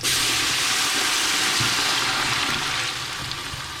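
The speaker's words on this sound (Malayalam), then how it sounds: "നമ്മൾ തേങ്ങ അരച്ചത് ഉൾപ്പെടെ 12 ഗ്ലാസ് വെള്ളമാണ് ഒഴിക്കുന്നത്." Water mixed with ground coconut poured into a cooking pot for coconut rice, a loud steady rushing splash that tapers off toward the end, close by, with no speech.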